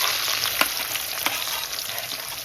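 Garlic sizzles in hot oil alongside ginger, a dense, steady crackling hiss with a couple of sharp pops, close and loud with no talking.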